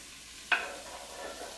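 Serrano peppers stirred in melted butter in a pan, with a sudden close sizzle as the pieces are moved, then a steady quiet frying hiss for a moment, no talking.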